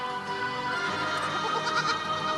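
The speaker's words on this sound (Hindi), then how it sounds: "बकरी का बच्चा" A young goat bleats repeatedly at close range, its wavering cries layered over a dense, steady background of other sound.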